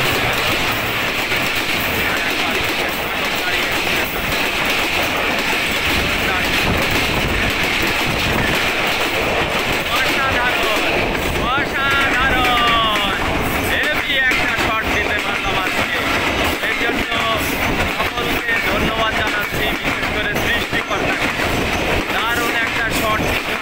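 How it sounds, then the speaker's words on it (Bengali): The Rupsha intercity express with Indonesian INKA coaches rushes past close by while another train runs alongside, giving a loud continuous roar with rhythmic clickety-clack of wheels on rail joints and brief squeals, with voices heard under the noise. "এই যে রূপসা এক্সপ্রেস আসছে, দুইটা ট্রেন দুই পাশে"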